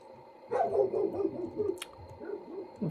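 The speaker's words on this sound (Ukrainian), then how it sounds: "опять ці сусідські собаки" Dogs bark and yelp at a middle distance in the game Farming Simulator 19, a few uneven barks over a low background hum, with no talking.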